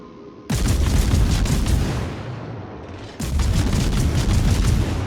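Naval warship guns in a video game fire in heavy, rumbling booming volleys. A loud burst sustains, eases, then erupts again with no voices.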